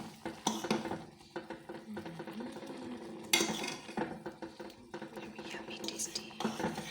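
Noodles being stirred with masala in a pan make clattering, scraping utensil sounds against the metal, with brief soft whooshes, close and moderately loud. A quiet voice murmurs in the background.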